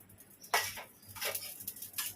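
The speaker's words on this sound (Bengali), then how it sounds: "এবার ভাজবো হচ্ছে শাহি জিরা।" Shahi jeera (caraway cumin) dry-roasting in a pan gives a few close, brief metallic scrapes and clinks of stirring against the pan, with a faint sizzle between them.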